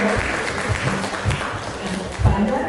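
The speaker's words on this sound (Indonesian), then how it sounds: "Tepuk tangan dong buat" An audience at a primary healthcare facility grant programme session applauds for an introduced official, giving sustained moderate clapping with some talk mixed in.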